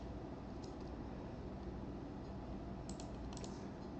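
A password typed on a computer keyboard during a Windows Server 2022 setup, with a few quick, quiet bursts of key clicks over a steady background hiss, close up and without speech.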